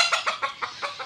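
Backyard hens and chicks cluck in a quick, even series of about six soft calls while pecking at broken rice, heard nearby with no talking.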